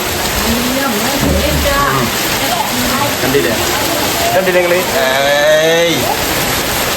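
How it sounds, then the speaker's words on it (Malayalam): Heavy summer rain pours steadily in Malappuram, a dense, unbroken hiss throughout while someone talks over it. "ഇതാണ് മക്കളെ വേനൽ മഴ."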